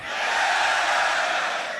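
Crowd roaring and cheering at the Grand Beatbox Battle 2019 loopstation beatbox event, a dense, sustained wall of voices that swells and holds loudly for nearly two seconds with no clear speech on top.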